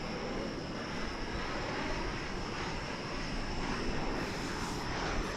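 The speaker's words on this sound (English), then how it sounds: "there's the plane there that landed" A fixed-wing airliner lands at DFW Airport. Its engines give a continuous, broad roar that holds at an even, moderate level throughout with no talk.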